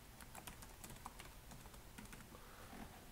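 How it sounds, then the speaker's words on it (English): Quiet keystrokes on a computer keyboard as a password is typed, an irregular run of soft, close clicks at a low level with no talking. "I'll just type in my password here"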